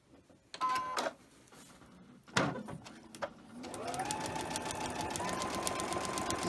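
A sewing machine stitching quilt squares, starting after a few clunks and handling knocks, then running steadily with a fast, even mechanical whir and rapid ticking, moderately loud and close, with no speech.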